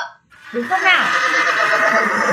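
A horse whinnies loudly and up close in a long, quavering neigh that falls in pitch, with a voice speaking over it.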